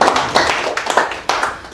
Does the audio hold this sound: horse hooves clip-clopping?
no